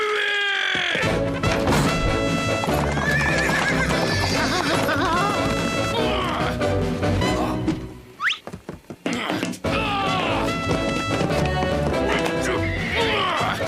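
A horse whinnies loudly amid a busy, dense scene from a Lucky Luke cartoon episode with clattering hooves and music, briefly dropping out before the noise resumes.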